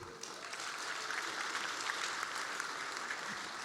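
An audience at a fan Q&A session claps in continuous, even applause, fairly distant and unbroken for the whole stretch.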